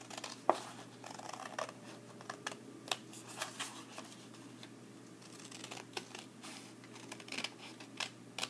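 Scissors snip through paper for a paper weaving craft, a series of quiet, irregular crisp cuts and soft paper rustles, close and without speech.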